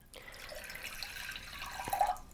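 Water is poured from a measuring cup, a cup and a half, giving a soft, short trickling splash that swells briefly and ends with a few drips, fairly close and quiet.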